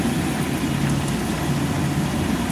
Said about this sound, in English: I got a loud truck on both sides